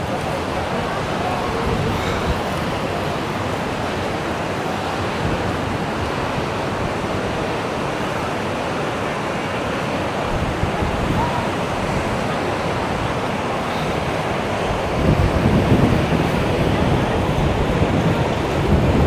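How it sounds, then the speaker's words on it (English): Surf breaking steadily along the beach at Maspalomas, Gran Canaria: a broad, continuous wash of waves that swells louder near the end. A faint voice can be heard beneath it. "Let's have a look on the beach."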